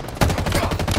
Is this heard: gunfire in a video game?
yes